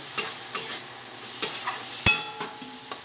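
Chopped green chillies and tomatoes stirred in a frying pan for semolina upma, a quiet sizzle punctuated by five or six crisp, evenly spaced spatula scrapes against the metal, with no voices.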